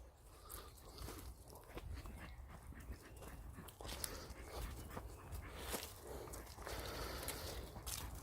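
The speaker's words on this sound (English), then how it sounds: "I'm just going to loose the dogs off." Dogs on leads in a mixed broadleaf and conifer wood pant and whimper close by, restless and uneven, with scuffling footsteps and rustling throughout.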